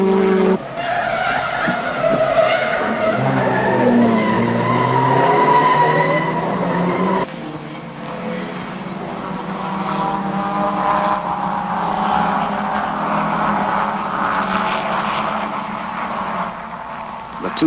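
Jaguar race cars battling in a 1971 race, engines roaring loud and continuous with tyre skids and shifting pitch as they run close, a brief break near the middle before the racket resumes.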